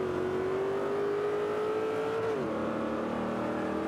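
Big American muscle cars race in Forza Motorsport 5, one steady loud engine drone rising in pitch and then dropping as it shifts, with a continuous roar throughout.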